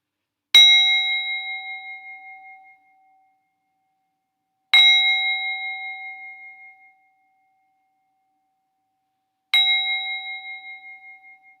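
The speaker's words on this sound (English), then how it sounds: "you'll hear our bell rung 3 times." A bell struck three times at the end of a church liturgy, evenly spaced, each clear ringing tone decaying slowly into silence before the next.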